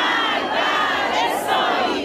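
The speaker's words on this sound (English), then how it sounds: "The crowds here chanting, down with Israel, death to Israel" Dense crowd of tens of thousands chanting together in loud unison at a mass funeral gathering in Iran, a continuous roar of massed voices filling the whole stretch.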